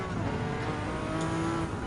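Group C race cars in Gran Turismo 7 roar steadily in a dense engine drone, several cars close together, with a continuous high whine and no talking.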